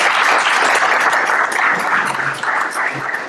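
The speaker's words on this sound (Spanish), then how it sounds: "Un aplauso para ellos." Audience applause at a cultural event, steady dense clapping filling the whole stretch at close range, loud and sustained without a break.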